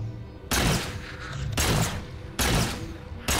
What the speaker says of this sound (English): I'm shooting him in the backpack